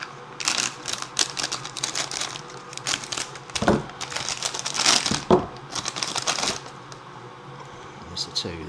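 Plastic and paper packaging crinkles and rustles in bursts as scissors cut open a parcel holding a pair of rubber boots, close up, with brief sharp snips and a voice talking now and then.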